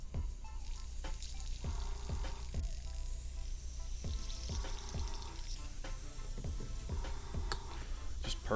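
Alcohol bubbling back through an airbrush during cleaning after varnish work, a quiet gurgling percolation with soft irregular ticks and pops over a low steady hiss.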